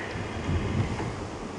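Steady wind buffeting the microphone on a safari drive at Djuma Game Reserve, a low rumbling rush with no other sounds standing out.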